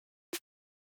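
A single electronic snare drum hit, a short bright burst with a tonal body, struck once and ringing out briefly before silence.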